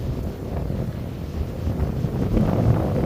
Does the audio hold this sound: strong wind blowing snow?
yes